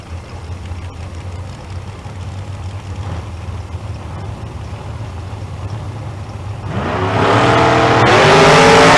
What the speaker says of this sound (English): Chris Vanover, out of Virginia in the 3rd generation Chevrolet Camaro. Brian Fair in the Bel Air, 57 model.